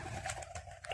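Pigeons cooing and fluttering close by at a graveyard, soft repeated calls over a steady low background hum.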